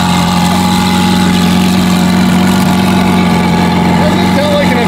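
A twin-turbo Lamborghini Aventador SVJ engine idles loudly and steadily up close, a constant low throbbing hum with a faint voice underneath.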